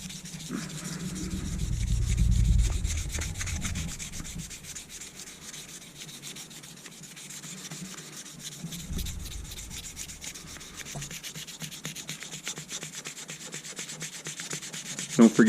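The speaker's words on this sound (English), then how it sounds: "come up in here and clean this up with a 600 grit stick" A knife handle is hand sanded with a 600 grit stick in a steady, close scratchy rubbing that rises and falls in long strokes, with no voices.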